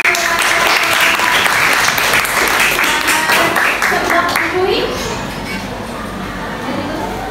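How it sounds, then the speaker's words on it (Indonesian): Audience applause closing a classroom presentation: a dense, loud burst of many hands clapping at once, easing off a little toward the end. "Kasih tepuk tangan."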